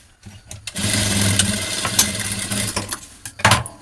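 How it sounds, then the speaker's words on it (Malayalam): Sewing machine stitching elastic into a garment sleeve, running in a close steady whir for about three seconds with a short pause and a brief final burst. "അടുത്ത സൈഡും ഇതുപോലെ നമുക്ക് സ്റ്റിച്ച് ചെയ്തെടുക്കാം"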